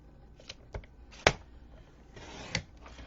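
A 4 by 6 card is cut with a paper trimmer, giving a few sharp, quiet clicks and a brief slicing scrape near the middle, followed by a longer soft swish of the blade across the card.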